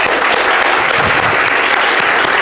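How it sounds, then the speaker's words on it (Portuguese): Church congregation at a communion service claps in a loud, dense, continuous round of applause, close and sustained throughout. "Para o Senhor Jesus está uma linda salva de palmas"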